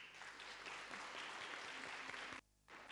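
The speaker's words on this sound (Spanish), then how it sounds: "Fuertes aplausos para nuestras representantes." Steady, dense applause from a seated audience at a gender equity debate, continuous clapping for about three seconds with a brief dropout near the end, fairly distant and soft.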